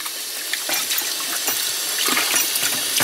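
Water running steadily from a sink tap in a pottery workshop after sieving glaze, a continuous splashing rush with small gurgles and clatters, close and fairly loud throughout with no talking.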